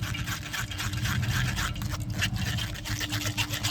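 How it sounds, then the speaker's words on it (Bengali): Blended watermelon pulp is pressed and stirred through a sieve, giving a close, continuous wet scraping and swishing with soft liquid dribbling underneath, steady and fairly loud throughout. "এবার একটা ছাঁকুনির সাহায্যে ছেঁকে নেব তরমুজটাকে"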